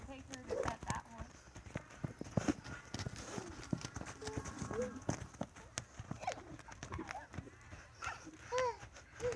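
A horse's hooves clip-clop at an irregular walking pace nearby while people talk throughout.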